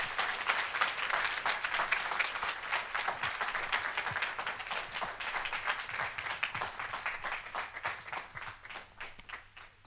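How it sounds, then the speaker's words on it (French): Congregation applauding in a church service, dense steady clapping from many hands that fills the room for about ten seconds before slowly thinning out at the end. "Est-ce qu'on peut les applaudir?"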